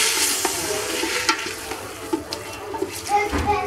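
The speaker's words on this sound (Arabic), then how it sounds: "غادي نحرك مزيان" Onions frying in a pot being stirred for a Moroccan chicken dish, a close sizzle broken by scraping and clinking strokes of the spoon, with faint voices in the background.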